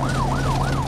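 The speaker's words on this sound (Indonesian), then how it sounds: "Presiden Lane dimasukkan ke ambulan dan mobil para pengawal segera mengikuti" An ambulance siren wails loudly and continuously in a rising-and-falling sweep, each cycle repeating about every 0.3 seconds, with a steady low hum of traffic underneath and no talk.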